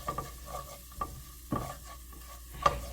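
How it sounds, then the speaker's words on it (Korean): Minced garlic and chili flakes stir-fry gently in oil over low heat, giving a soft, quiet sizzle broken by several distinct scraping strokes of a utensil against the pan. "약불에서 다진 마늘 반 스푼을 넣고 살살 볶다가 고춧가루 한 스푼을 넣고 같이 볶아주면 고추기름이 돼요"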